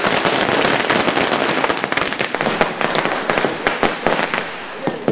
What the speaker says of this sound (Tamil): தொண்டர்களுடன் பட்டாசு வெடித்து இனிப்பு வழங்கி கொண்டாடினர்